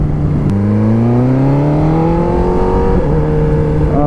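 A BMW S1000RR sport motorcycle cruising on a highway, its engine droning loud and steady at close range, the pitch climbing smoothly through a gear with a brief shift near the end.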